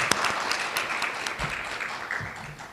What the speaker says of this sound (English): Everyone, let us applaud to their phenomenal achievement.